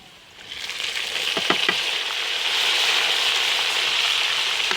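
Onions sizzling and frying in a pan, a steady hiss that swells after a moment and holds, with a few light crackles and scrapes near the start.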